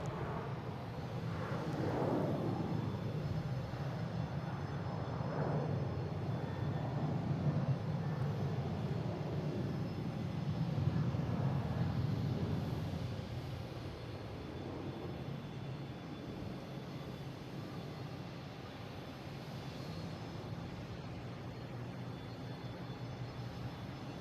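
A jet airliner taking off from Boston Logan roars loudly with a broad rumble, building and peaking around the middle before slowly fading into the distance, with no voices.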